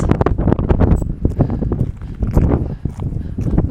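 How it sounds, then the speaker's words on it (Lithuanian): Wind gusts buffet the microphone of someone walking on a level desert road at night, producing rough, uneven bursts of rumbling noise with irregular pulses, close and loud throughout. "tas vėjas, jis pučia tiesiog man tiesiai į veidą"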